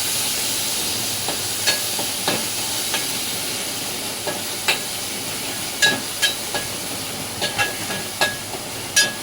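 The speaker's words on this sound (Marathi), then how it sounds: "यामध्ये आपण आता आलं लसूण मिरचीचा जो ठेचा बनवला होता तो घालणार आहोत आणि तेलावर चांगलं परतवून घेणार" Ginger, garlic and green chili thecha sautéing in hot oil gives a steady, soft sizzling hiss, broken by scattered light spatula clicks and pops throughout, with no talking.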